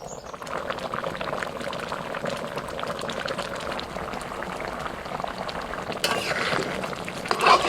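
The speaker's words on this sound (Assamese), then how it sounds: "এতিয়া ধুনীয়াকৈ উতলিবলৈ দিওঁ" A pot of red lentils with pork and kolakhar simmers at a close, continuous bubbling boil with soft gurgles and slight stirring, growing a little louder near the end, with no talk.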